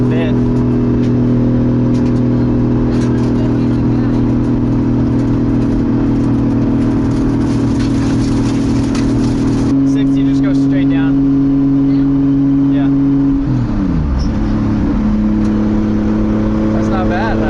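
A 2JZ-engined Nissan 240SX drift car drones loudly from inside the cabin, holding a steady engine note, then shifting gear and settling into a lower pitch, with voices talking over it.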